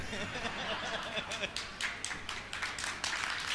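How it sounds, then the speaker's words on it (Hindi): An audience at a religious discourse claps in scattered, uneven bursts, moderately loud, with background murmur. "ये तालियां बनियों की कहलाती है"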